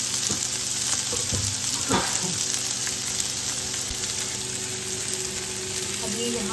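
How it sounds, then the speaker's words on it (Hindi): Chili, bell peppers and onion frying in a pan for egg fried rice, a steady close sizzle with a few stirring scrapes and clinks, no speech over it. "ये चिली डालूँगी और अपने बेल पेपर्स और अनियन जो है ये डालूँगी। इसको अच्छे से फ्राई करेंगे।"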